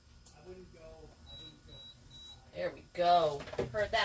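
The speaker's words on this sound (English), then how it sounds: "Heard that beep." Three short, sharp electronic beeps in an even rhythm, fairly faint, with people talking around them before and after.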